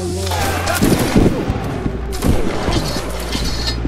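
Massed gunfire from an online multiplayer battle game, a dense, loud crackle of overlapping shots rolling across the clip with voices faintly underneath.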